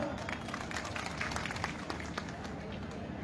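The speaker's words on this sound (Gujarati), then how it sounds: "એમના માટે તાળી ઉપાડો" A large crowd claps steadily and densely at a Thakor community mass wedding in Deesa, a continuous wash of applause with no distinct voices above it.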